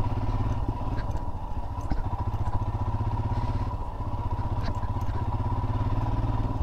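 A Royal Enfield Himalayan motorcycle rides off-road, its engine thumping in a steady, close, low rhythm with faint rattles and clatter over the rough ground, and no one speaking.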